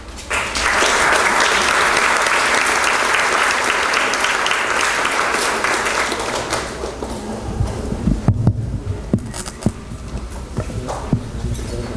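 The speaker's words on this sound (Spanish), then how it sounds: "Fuertes palmas." Loud applause from a large audience at a university ceremony, a dense wash of clapping that swells quickly, holds for several seconds, then thins into scattered claps and a few isolated hand claps.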